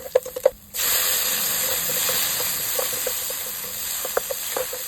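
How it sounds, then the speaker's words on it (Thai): Dried chili, garlic and blanched mushrooms hiss and sizzle steadily in a hot wok as they are stir-fried, with faint scraping taps of a spatula over the continuous frying noise. "ผัดพริกกับกระเทียมให้หอมดีนำเห็ดที่เราลวก ไว้ใส่ลงไปผัดให้หอมเลยค่ะ"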